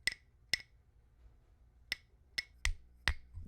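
Two small wooden baby-toy blocks knocked together, producing six sharp, crisp clicks at an uneven pace, close and distinct over a quiet background.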